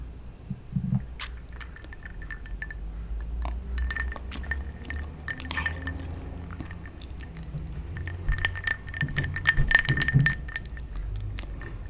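Gatorade poured into a glass, heard close up in a quiet room as a long run of glassy clinks and tinkling taps over a soft liquid trickle, with a few low thumps.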